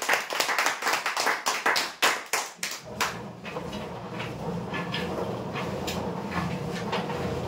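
An audience applauds a prize-draw winner: a run of loud, distinct hand claps in a quick rhythm gives way to softer, continuous, scattered clapping that spreads across the room and slowly fades.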